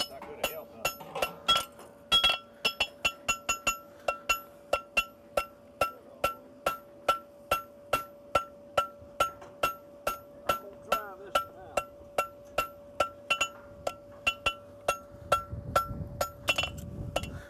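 A farrier's hammer rings against a horseshoe heel on an anvil in a long run of sharp metallic strikes at a steady, brisk rhythm, near and loud, with a faint voice in the background.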